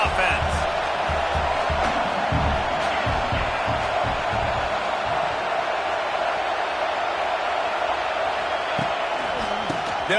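A football stadium crowd roars in a constant, dense wash of noise, with a game commentator talking over it throughout.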